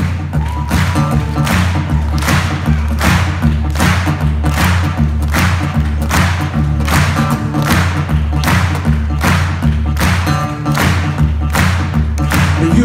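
Crowd claps a steady rhythmic beat along with loud rock music at a concert in a theatre, regular hand claps repeating throughout over thumping drums and band sound.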